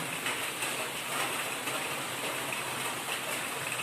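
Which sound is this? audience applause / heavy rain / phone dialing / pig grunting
heavy rain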